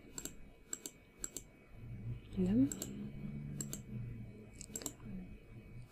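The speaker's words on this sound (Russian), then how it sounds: "каждая точка, которая появляется на экране, это щелчок моей мышкой" Computer mouse clicks sound while drawing in Photoshop, coming as a run of sharp, light, separate taps spread through the clip, with brief speech in the middle.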